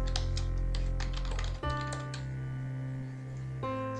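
Keys tapped on a computer keyboard while typing a name into a spreadsheet tab, a quick irregular run of light clicks over steady background hum, with no talking.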